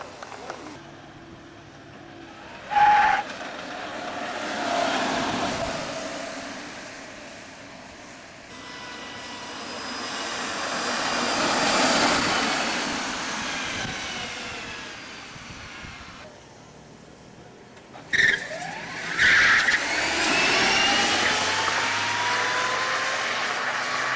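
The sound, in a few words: electric drag racing car roadster accelerating down strip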